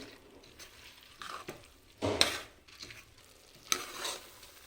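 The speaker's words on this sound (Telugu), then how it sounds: "ఈ పప్పుని కూడా ఆయిల్లోనే కొద్దిసేపు ఒక 2-3 నిమిషాలు ఇలా కాస్త ఫ్రై" Moong dal lentils frying in hot oil in a pan, a soft steady sizzle broken by two louder bursts of stirring and scraping, close up and moderately quiet.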